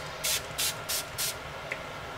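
A hand water spray bottle mists onto watercolour paper in four quick, close pumps of hissing spray, followed by a faint tick and quiet room tone.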